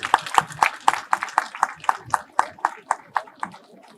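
Audience clapping at a commemorative gathering at a martyrs' memorial site in Bucharmori, Gujarat, heard as a run of sharp, evenly spaced claps that slowly thin out and fade over a few seconds.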